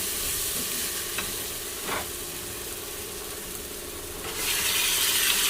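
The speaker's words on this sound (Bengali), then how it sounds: "মাংসটা দিয়ে কষিয়ে নেব" Marinated mutton added to cooked spice masala sizzles and is stirred close by, with a few spatula clacks early on and a louder, hissing surge of frying near the end.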